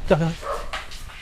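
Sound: dog barking

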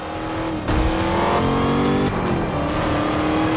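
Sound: Chevrolet Camaro race car engine revving, Forza Motorsport 5 video game

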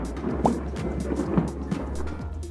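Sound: thunderstorm thunder

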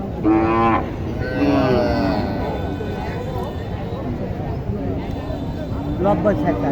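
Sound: cow mooing at a cattle market

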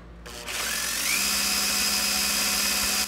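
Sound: cranking 1985 Volkswagen 1.6L diesel engine to prime injection system

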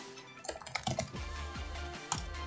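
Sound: typing on a computer keyboard

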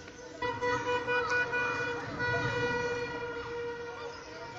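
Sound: car horns honking in street after Algeria's win

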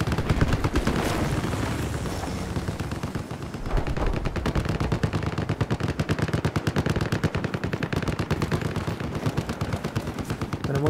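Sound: gunfire in video game Battlefield 4

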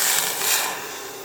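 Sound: water poured into a pan

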